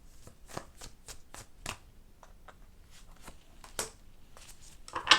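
Tarot cards being shuffled by hand to draw another card, a series of quiet crisp riffling flicks in irregular rhythm, close and soft, with a sharper snap at the end.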